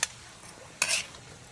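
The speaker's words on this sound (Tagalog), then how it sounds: "Kulo na siya. Nakikita nyo, kumukulo na siya. Pwede na natin siyang haluin." A utensil stirs a pot of boiling noodle soup: a couple of quick swishing scrapes over a soft simmer, quiet and close.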